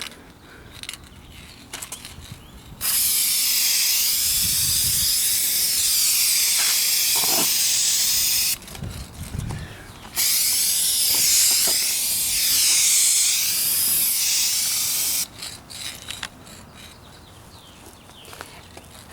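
Duplicolor Universal Silver aerosol paint is sprayed onto a 2004 Kia Spectra rear bumper in three long, loud, steady hissing passes, separated by quieter gaps with faint clicks and handling noise.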